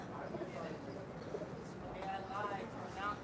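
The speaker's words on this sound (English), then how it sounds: "Look at these beautiful birds." Soft cooing of pigeons or doves under steady background noise, faint and distant-sounding, with a few light chirps near the end.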